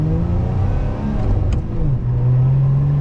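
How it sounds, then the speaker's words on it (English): A Lotus Emira sports car accelerates up through the revs with a loud, close exhaust note, the engine tone rising and dropping briefly at a gear change before climbing again with a throaty burble. "there was an amazing burble out the back"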